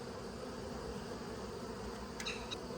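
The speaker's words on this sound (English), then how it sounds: "This hive was jam-packed with bees too." Honeybees buzz around an open, crowded hive, a faint, continuous drone with a brief louder pass of a nearby bee near the end.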